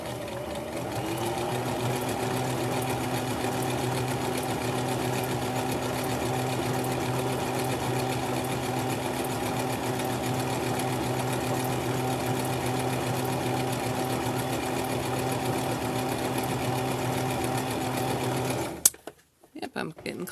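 An electric sewing machine runs steadily, stitching fabric for a headband, with a continuous motor hum and rapid needle rhythm that continues for nearly the whole stretch before stopping abruptly near the end.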